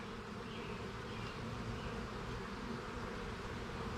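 A honey bee swarm in a shop hive humming as a steady, dense drone of many wings, even and continuous throughout, faint and close with no voices.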